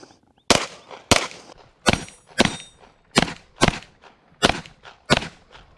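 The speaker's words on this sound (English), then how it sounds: "We're just going to fire 2 shots transition, see how it goes." Sharp, loud pistol shots from a Tisas 1911 Night Stalker 9mm fired at a range with steel targets, about nine close cracks in a fairly steady rhythm with short decays and no talking.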